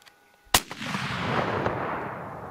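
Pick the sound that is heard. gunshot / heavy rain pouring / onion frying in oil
gunshot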